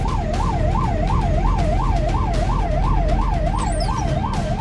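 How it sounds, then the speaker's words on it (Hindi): An ambulance siren wails in a steady rising and falling cycle, loud and continuous over rumbling road traffic, as the ambulance follows a truck on a highway between Jhansi and Shivpuri. "पीछे से आ रही एम्बुलेंस को भी इसने आगे जाने का रास्ता नहीं दिया।"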